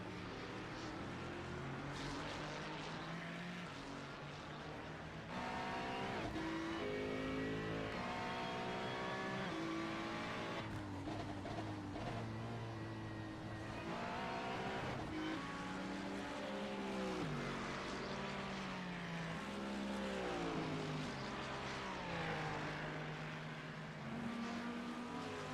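Race cars in a sim racing league video game, engines droning and shifting pitch continuously as the pack races, loud and steady throughout with no talking.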